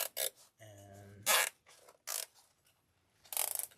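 Zip tie ratcheting tight around a grapevine wreath, a few sharp clicking bursts with short pauses between, close and fairly loud with no talking.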